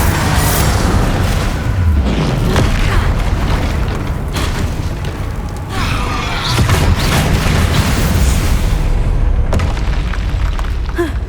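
Spells such as Confringo, Glacius and Bombarda are cast in Hogwarts Legacy combat, setting off a loud, continuous barrage of booming explosions and crashing bursts with a voice shouting among them.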